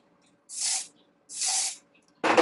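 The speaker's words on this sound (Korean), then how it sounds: "스프레이를 살짝 뿌려주세요." Hairspray is sprayed onto short hair during an updo, heard as two close hissing bursts of about half a second each and then the start of a third, with near silence between them.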